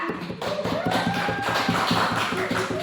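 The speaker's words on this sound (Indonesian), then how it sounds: "beri aplaus dulu untuk kelompok 2." Students in a classroom clap together in a dense burst of applause that holds steady for a few seconds.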